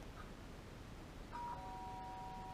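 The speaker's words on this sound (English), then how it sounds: "did I hear the doorbell?" A doorbell rings in the video game Danganronpa: Trigger Happy Havoc, giving a soft two-tone chime over a low steady hum of background music, with no talking.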